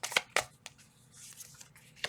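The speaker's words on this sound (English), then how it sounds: "One more shuffle and I'll grab cards." A deck of tarot cards being shuffled by hand in crisp, papery riffles and slaps: a couple of sharp bursts at the start, a softer rustle in the middle and another snap at the end, close and fairly quiet.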